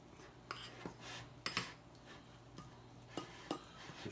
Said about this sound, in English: Now we're just going to stir that till it's really all incorporated.